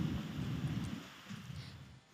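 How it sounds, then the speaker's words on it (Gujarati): Heavy rain pours steadily with strong wind and a low rumbling of thunder underneath in Kutch, Gujarat, fairly faint and distant, easing slightly toward the end. "ભારે પવન સાથે વીજળીના કડાકા ભડાકા સાથે અહીં ભારે વરસાદ ખાબક્યો"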